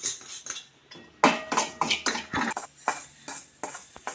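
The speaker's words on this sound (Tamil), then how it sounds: "இப்போ ஒரு ஐம்பது கிராம் ரவை எடுத்து வறுத்துக்கிடுவோம்" About fifty grams of semolina for a banana sweet being stirred in a pan, the spoon scraping and clinking against the metal in quick, uneven strokes, close and clear.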